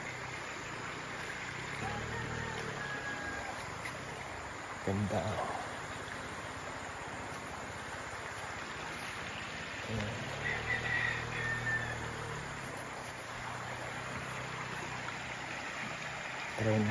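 A river runs past a riverside campsite in Tanay, Rizal, beneath a mountain, giving a steady rushing wash of water throughout while people talk nearby.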